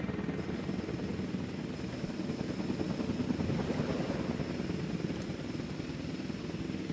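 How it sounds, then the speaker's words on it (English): A helicopter in Jurassic World Evolution 2 drones steadily throughout, a dense low rotor rumble holding at a constant moderate loudness with no voices. "I was wondering where the helicopters were"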